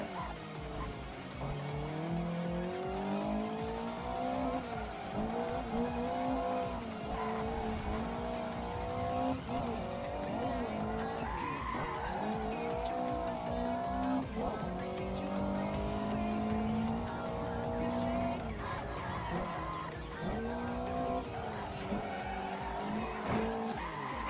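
Race cars in Assetto Corsa make a constant engine roar that rises and falls with revs, joined by sustained tire squeal and skidding through corners, loud and close with no talk.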